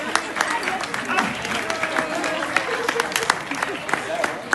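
A small group breaks into applause, the separate claps sharp and uneven, while voices talk and call out over them.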